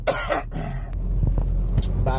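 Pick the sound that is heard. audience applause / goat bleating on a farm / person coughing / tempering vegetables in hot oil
person coughing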